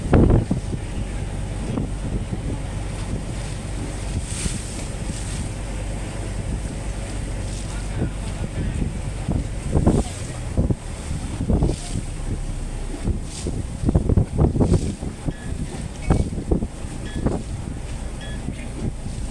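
A boat crossing the river toward Tha Chalom, with steady engine drone, wind buffeting the microphone and water splashing against the hull throughout, louder bursts of spray and rumble in the second half.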